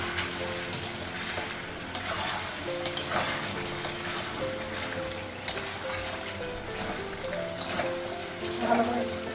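Potatoes fry and sizzle in a pan as a spoon stirs and scrapes them in repeated strokes, the hiss steady throughout with occasional utensil clinks and a faint voice.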